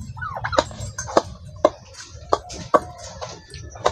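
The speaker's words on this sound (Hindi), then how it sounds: "देखिए हमारा दोनों टर्की खाने के लिए आ गए हैं" Two turkeys peck at feed, sharp close pecking taps mixed with soft clucking and chirping calls over a low steady rumble.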